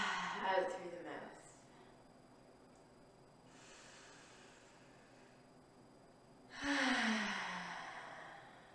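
A slow, deep breath audibly exhaled through the mouth during a relaxing yoga session, a soft breathy rush near the end following an earlier quieter breath, with a calm voice speaking at the start.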